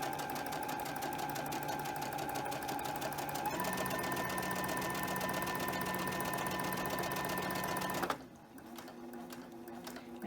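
A sewing machine runs steadily while stitching quilt blocks at a 2.5 inch stitch length, a fast even mechanical whir with one change in pitch, then it stops abruptly near the end.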